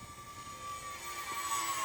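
E-flite Aero Commander UMX, a small electric RC plane with flap mod, makes a downwind pass on a calm day; a faint, distant, steady motor whine swells slightly as it goes by.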